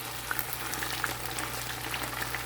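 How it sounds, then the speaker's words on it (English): Tofu pieces frying golden brown in a generous amount of oil, giving a steady, fine crackling hiss with scattered small pops, close and continuous, no talking. "the tofu that we fry"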